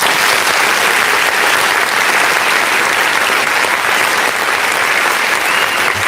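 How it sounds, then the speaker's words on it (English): Canned applause sound effect set off by a button on a live music review show, a loud, dense, even wash of crowd clapping that holds steady throughout, with no talk over it. "Let's go ahead and hit this button here that allows us to clap."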